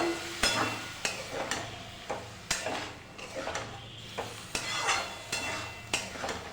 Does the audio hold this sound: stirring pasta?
yes